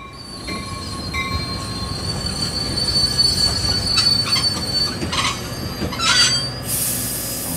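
A train pulls into Istanbul one evening, its wheels grinding and squealing on the rails with shrill, sustained metallic screeches over a rumbling rolling bed that grow sharper and louder near the end.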